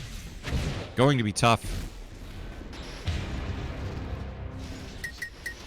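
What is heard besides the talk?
rockets fired in video game Unreal Tournament 4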